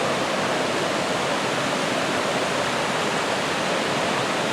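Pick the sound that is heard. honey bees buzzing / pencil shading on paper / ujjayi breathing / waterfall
waterfall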